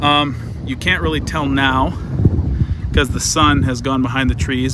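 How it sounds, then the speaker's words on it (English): Wind gusts and rumbles against the microphone outdoors on a below-freezing late-May evening, a steady low buffeting under someone talking close throughout. "sorry about the wind again"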